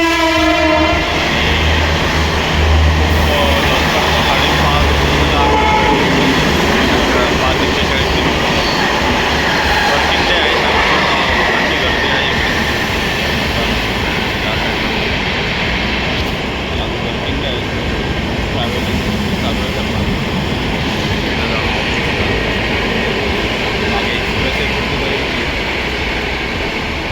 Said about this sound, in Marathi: चर्चगेट ट्रेन लागलेली आहे इकडे